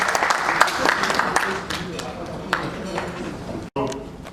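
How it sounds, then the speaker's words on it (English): Audience applause at a university seminar inauguration, a steady crackle of clapping through most of the clip that stops abruptly near the end, with voices mixed in beneath it. "Can we have a round of applause?"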